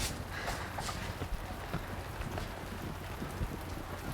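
Steady rain falls and patters on a surface, a dense, even hiss of drops that stays fairly close throughout with no voices.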